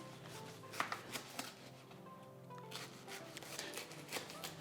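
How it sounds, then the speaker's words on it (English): A sharp knife cuts lemongrass into small pieces, giving quiet, irregular crisp chops and clicks against a soft steady background, with no talking. "I'll just cut the lemongrass tea, the lemongrass into small pieces"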